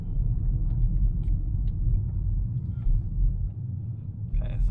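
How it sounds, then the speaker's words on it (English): Low, steady buffeting rumble of wind noise inside a moving VW Polo GTI with the sunroof lifted slightly, a dense continuous roar with small faint ticks on top and no talk. "the wind noise is a bit too much"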